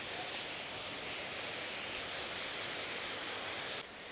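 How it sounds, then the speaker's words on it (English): Big waterfall at Cane Creek Canyon Preserve, a steady, broad roar of falling water with no breaks, close and constant throughout. "now we're here at the start where this big waterfall is"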